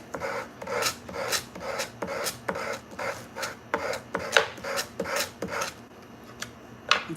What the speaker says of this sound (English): And see, I'm sanding at an angle because the cross is angled.